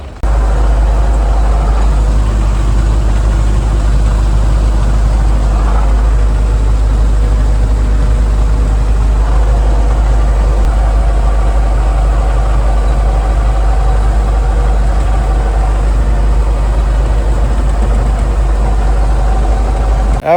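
A tractor engine running loud and close during crop spraying in a corn field, a steady heavy diesel drone with little change in pitch over twenty seconds, no talk.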